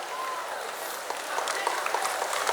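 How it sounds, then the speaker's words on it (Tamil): An audience claps for a student winner at a prize ceremony for a Tamil speech contest, with dense, steady applause that swells slightly toward the end and a faint voice beneath it. "உங்களின் பலத்த கைத்தட்டலோடு"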